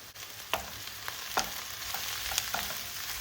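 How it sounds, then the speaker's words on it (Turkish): Peppers and onions sizzle steadily in a hot pan, with sharp scraping clicks of a utensil stirring them every second or so, close and with no talking. "Biberleri de hafiften bir soteleyeceğiz."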